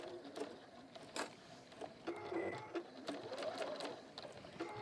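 A sewing machine stitches a seam, using a long basting stitch, in a run of quick, steady mechanical ticking with brief pauses, close and moderately quiet.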